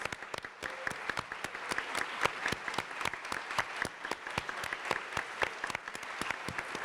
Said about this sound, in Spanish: Quiero que le demos un aplauso a las secretarias, a los auxiliares, a los apoyos.